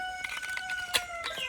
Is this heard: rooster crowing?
yes